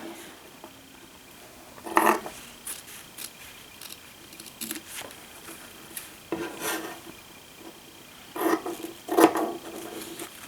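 Scissors cutting fabric for a neckline pattern: a few quiet, scattered snips and rustling rubs at an irregular pace, with louder crisp cuts near the start and end against a soft background hum.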